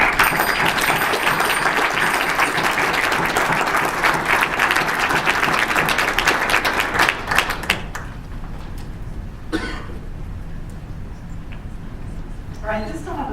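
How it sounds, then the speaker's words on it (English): Audience at a Tacoma historic preservation proclamation ceremony applauds, dense sustained clapping for about eight seconds, then fading to a few scattered claps while a speaker begins talking. "let's give all the bison advocates a round of applause"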